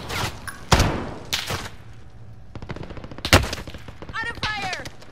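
Gunfire rings out in a Call of Duty Warzone match: loud, close single shots and short automatic bursts, with heavy thuds and a rapid rattling volley in the middle. Shorter sharp sounds and brief pauses break up the firing.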